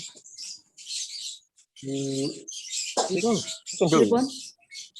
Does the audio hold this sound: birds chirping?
yes